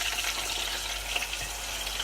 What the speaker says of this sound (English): And I've got my oil heating up here, so it can be nice and hot. So in it goes to the hot oil.